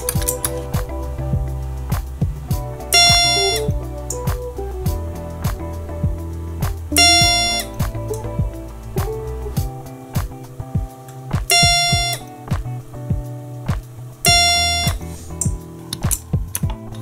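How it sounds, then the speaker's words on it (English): A Montgomery Vector elevator simulator sounds its alarm as a bright buzzing ring, repeated in short bursts about every four seconds over steady mechanical clicking and low hum. "It also has an alarm."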